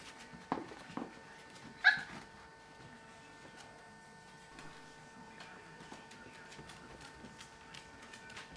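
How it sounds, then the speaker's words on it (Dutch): Young puppies in a litter around five weeks old giving a few faint whimpers and one short sharp yip early on, then mostly quiet rustling, soft and somewhat distant. "Al die kleine puppies."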